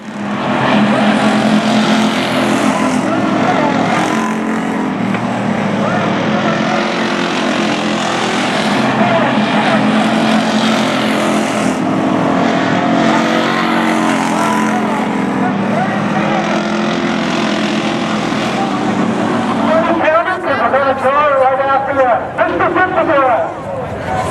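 Pro late model race cars roar around a short oval track during a Saturday night event, a dense, loud, continuous engine drone under a commentator's talk.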